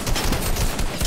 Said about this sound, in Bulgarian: Някой изстреля някой.